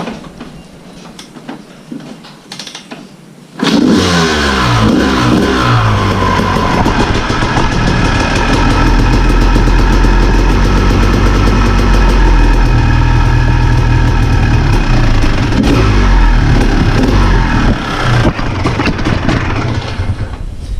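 A dirt bike engine with the choke on is kick-started after a short quiet spell, catches abruptly and settles into a loud, steady idle close by, with no talk.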